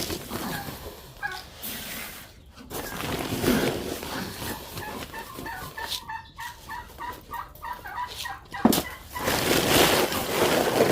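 A flock of layer hens clucks and calls in an eager, overlapping chorus near feeding time, with bursts of louder squawks over a constant background of farm noise.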